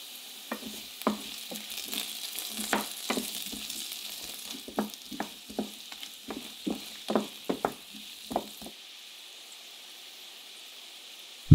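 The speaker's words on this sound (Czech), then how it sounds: "Naházej to na pánev a máslo nech rozpustit a kmín a tymián z lehonka" Butter with thyme and crushed caraway sizzles softly in a frying pan, punctuated by a quick run of sharp crackles and spits that thin out toward the end, ending with a brief louder knock.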